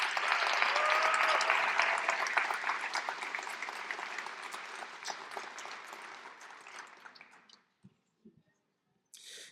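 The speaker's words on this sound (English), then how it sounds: "Let's give a round of applause for Thomas Washer." Audience applause at an Alabama music educators' awards ceremony for a student composer, a dense steady clapping that fades away over about seven seconds, leaving near silence with a few scattered faint sounds.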